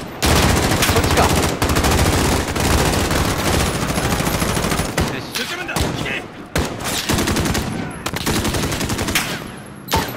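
Sustained, loud gunfire from Call of Duty Modern Warfare campaign combat: dense bursts of automatic rifle and machine-gun fire rattling almost continuously, with brief gaps, explosions and shouted voices mixed in.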